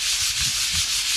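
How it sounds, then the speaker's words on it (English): A short burst of 80 grit sandpaper rubbing back and forth across a Corian kitchen countertop, close and steady with a rhythmic hiss and no speech. "I can sand that. This is 80 grit sandpaper"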